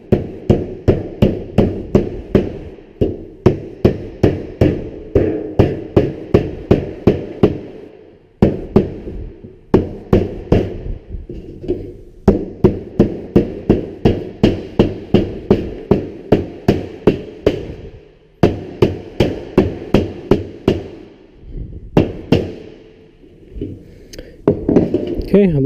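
Rapid bursts of metallic tapping as a hammer shapes a 90-degree sheet metal elbow fitting, many quick strikes in runs with brief pauses between, close and fairly loud.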